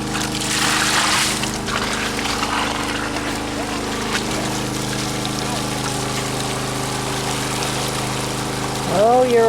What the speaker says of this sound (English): Oh, you're overflowing all over the place.